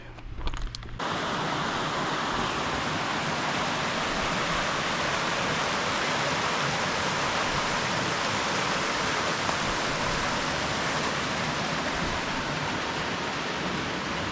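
Waterfalls along the Mason-Dixon Trail on the hike from Otter Creek to Long Level, heard as a steady, loud, broadband roar of rushing water that fills the whole stretch without a break.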